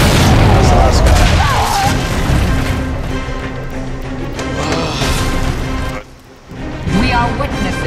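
Frag grenade explosion in the video game Gears of War 3, a loud deep boom opening the clip and rumbling out amid ongoing battle noise, with a short break near the end and voices during the fight.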